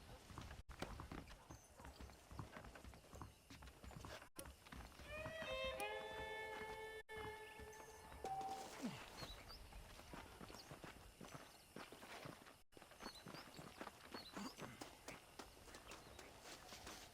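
Horse hooves clip-clop in a steady walking rhythm in the video game Red Dead Redemption, with a synthetic game soundscape and occasional tones layered over the top.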